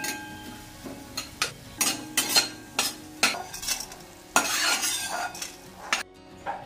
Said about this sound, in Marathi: एक नाश्त्याचा चमचा मी धने घेतलेले, त्याला उगाच आपल्याला आंबळ असं भाजून घ्यायचं